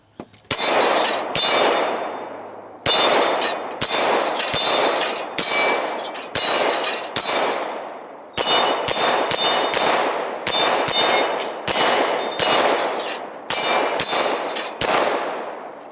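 Shots are fired at fiber optic gun sights in a toughness test. Each shot is followed by a loud metallic clang of the target, about eighteen sharp impacts in uneven bursts, each clang ringing out briefly.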